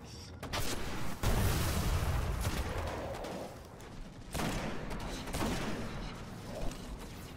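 Gunfire in the video game Destiny as weapons shoot through an enemy's shield, with dense overlapping bursts and impacts, mechanical clatter and a few sharper cracks throughout.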